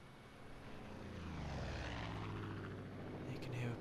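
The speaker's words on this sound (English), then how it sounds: "And you can hear a plane, similar to ours right here." A seaplane flies overhead in Far Cry 5, a steady propeller drone that swells and sweeps past at moderate loudness, with a faint knocking near the end.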